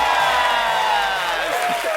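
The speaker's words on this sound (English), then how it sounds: "A big round of applause." Studio audience at a talk show cheers and whoops loudly over applause as a guest walks a runway, a continuous crowd roar with shouted voices rising and falling throughout.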